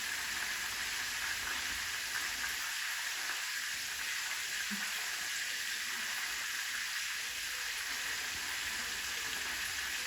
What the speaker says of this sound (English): So, the second batch of keftedes is cooking.